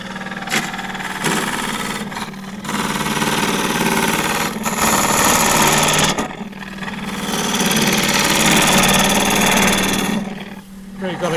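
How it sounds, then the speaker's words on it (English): Wood lathe turning a claret ash vase with a big gouge, a loud continuous droning whine with a steady low hum, interrupted by brief gaps as the cut pauses, close and dominant throughout. "This time I'm going to get in with the big gouge and just work from about here down to the bottom."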